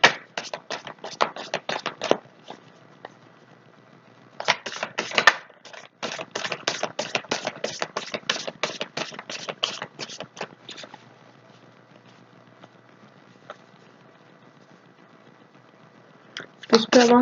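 Tarot cards are shuffled in quick bursts of dry riffling and flicking, close and crisp, with pauses between the bursts and a longer stretch near the start and middle.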